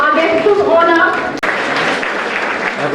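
A crowd at a hospital mother and child care unit opening applauds the guest of honor, dense clapping that swells as a voice talks over the first half, then continues steadily alone.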